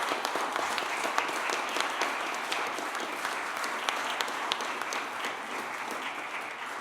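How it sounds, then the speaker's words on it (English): Sustained, even applause from an audience at a College of Physicians conferring ceremony fills a large room, many hands clapping steadily at moderate loudness throughout. "I think they deserve a round of applause."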